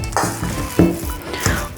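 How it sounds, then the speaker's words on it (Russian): A fork scrapes and squishes through a soft, thick cottage cheese mixture for baked cheese pancakes in quick repeated strokes, close up. "Берите самую обыкновенную вилку и вот так вот все просто тщательно перемешивайте"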